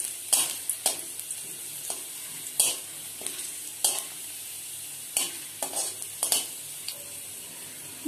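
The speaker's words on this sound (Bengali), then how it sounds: "রসুনের কোয়া দিয়ে দিলাম। এগুলোকে হালকা লাল করে ভেজে নেব।" Sliced garlic cloves fry in oil for a tadka while a utensil stirs them, producing a soft continuous sizzle broken by about a dozen sharp scraping strokes at irregular intervals.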